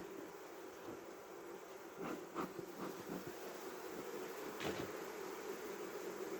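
Continuous buzzing of many honeybees around a hive, steady and close, with a few soft knocks and rustles of hive frames.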